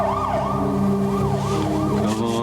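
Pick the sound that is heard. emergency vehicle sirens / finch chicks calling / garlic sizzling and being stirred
emergency vehicle sirens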